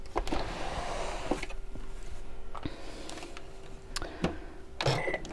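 A domestic sewing machine stitching fabric along a diagonal line, with a steady mechanical whirring drive and sharp intermittent clicks and ticks, close and fairly loud, the machine stopping and starting.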